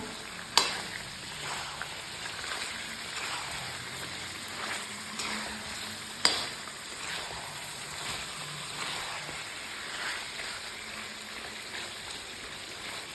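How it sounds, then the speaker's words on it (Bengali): Chicken and fried potatoes get stirred through a sizzling spice masala in a pan for a Bengali chicken curry, a soft steady frying hiss broken by occasional spoon scrapes and clinks, fairly quiet and with no voices. "এখন আমি ভেজে রাখা চিকেনটা দিয়ে দেবো যে আলুটা ভেজে রেখেছিলাম আলুটাও দিয়ে দেবো আলুটাকে আর চিকেনটাকে এক মিনিট মতো আমি নেড়ে নেবো"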